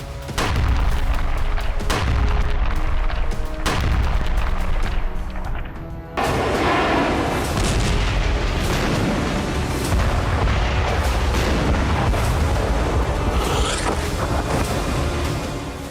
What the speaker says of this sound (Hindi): आसमान से बम बरस रहे हैं, नीचे इमारतें मलबा बनती जा रही हैं। हर धमाके के साथ बड़ी तादाद में जाने जा रही हैं।